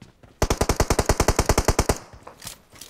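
Automatic gunfire in the mobile battle-royale game PUBG Mobile: a rapid burst of about eighteen evenly spaced loud shots over roughly one and a half seconds, then a few fainter scattered sounds, with no talking.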